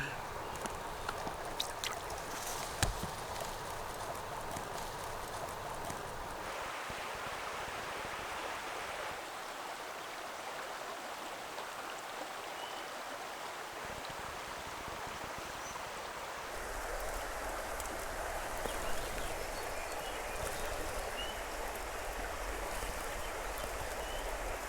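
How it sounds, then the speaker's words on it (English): Small woodland waterfall at a South Dakota campsite, a steady close rushing and splashing of falling water that fills the whole stretch with no one speaking. "Got a little waterfall in front of me here"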